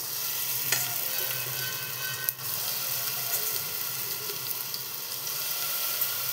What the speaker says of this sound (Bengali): তেলটা গরম হয়ে গেছে, এগুলো আমি এখন ফ্রাই করে নেব।